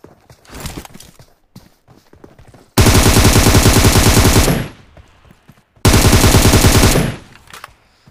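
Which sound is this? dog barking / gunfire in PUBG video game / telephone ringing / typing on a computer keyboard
gunfire in PUBG video game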